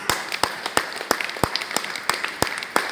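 Sparse, evenly spaced claps at a marketing plan meeting in Karimnagar, about a dozen distinct sharp hand claps in a steady rhythm rather than a full crowd roar.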